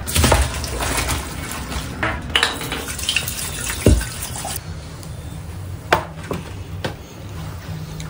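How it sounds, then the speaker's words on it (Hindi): Starchy water from freshly boiled pasta being poured or scooped off in a home kitchen, with uneven splashes, trickles and drips, some sharp knocks, up close and fairly quiet. "पास्ता बॉईल हो चुका है, थोड़ा सा पास्ता का पानी मैं निकाल लूंगी।"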